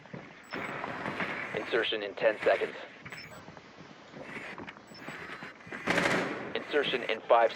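Rainbow Six Siege gunfire bursts out in rapid clusters, with a sharp louder volley near the end, mixed with game sounds under continuous talking.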